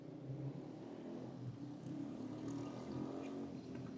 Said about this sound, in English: I'm waiting for the motorcycle downstairs to get the hell off my street